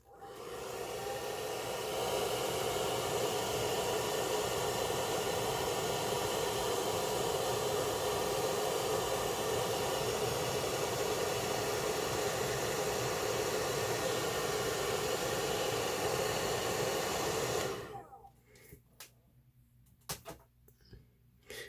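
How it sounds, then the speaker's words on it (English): Hairdryer blowing close by to dry paint on white metal HO scale barrel castings, a loud steady whooshing hiss for about eighteen seconds before it switches off, leaving quiet room sound with light handling noises. "let that dry again with the good old hairdryer"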